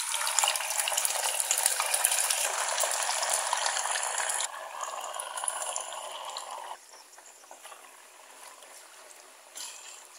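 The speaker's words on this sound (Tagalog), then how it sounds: "ipa-fry na natin yung ating tukwa" Tofu frying in a pan gives a steady, dense crackle and sizzle that holds for a few seconds, then drops in level and thins out toward the end, with no voices.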